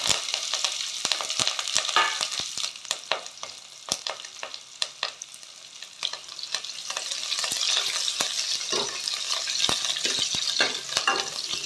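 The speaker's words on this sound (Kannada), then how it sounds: "ಈರುಳ್ಳಿ ಸ್ವಲ್ಪ ಫ್ರೈ ಆದರೆ ಸಾಕು ತುಂಬ ಫ್ರೈ ಆಗಬೇಕು ಅಂತ ಏನೂ ಇಲ್ಲ" A small chopped onion, a couple of dried red chillies and curry leaves fry in a pan for vegetable sambar, a steady sizzle punctuated by frequent sharp scraping stirs and crackles, without speech.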